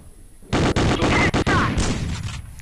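Rapid P90 gunfire in a video game, several loud close bursts separated by brief gaps, then a trailing decay of shots and game noise.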